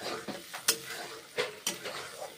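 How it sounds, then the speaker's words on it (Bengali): Spice masala for a papaya and egg curry is sautéed in a pan, with soft sizzling under intermittent scraping stir strokes and a few sharper utensil clinks against the pan. "মশলা দিলাম, কষে নিচ্ছি"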